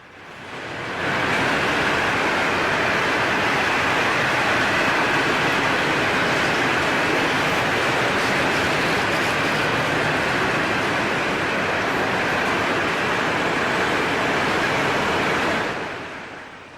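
A Florida East Coast Railway freight train hauling heavy 100-ton rock loads rolls past, a continuous loud roar of wheels and cars that swells in, holds steady, then tapers off.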